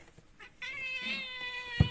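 A single drawn-out cat meow, fairly quiet, followed by a soft thump near the end.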